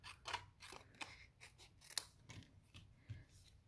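Scissors snip through card-stock paper corner to corner while making a card, with several short, crisp cuts spaced irregularly across a quiet tabletop.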